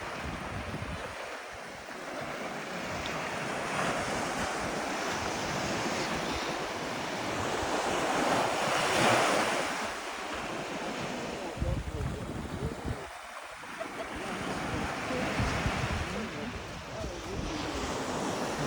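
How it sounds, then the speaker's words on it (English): Ocean waves wash onto the shore at sunset near a lighthouse in Reykjavík, Iceland, a broad, continuous roar with swelling surges, mixed with wind buffeting the microphone and occasional faint talk. "The waves are coming."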